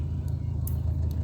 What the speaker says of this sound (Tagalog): Ito yung sinasabi kong traffic.